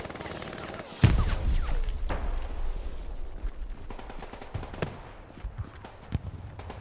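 An MP40 submachine gun fires during a match of the video game Hell Let Loose, starting with a sharp crack and then short bursts and scattered shots. The shots are mid-distance, over a constant din of battlefield noise.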